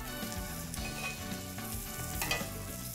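Steak for tacos sizzles steadily in a hot pan just after being flipped, a continuous close crackling fry with faint scraping, no voices over it.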